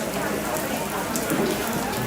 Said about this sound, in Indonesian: Jadi hujan.